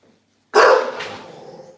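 A single loud, close dog bark bursts out after a moment of silence and trails off quickly.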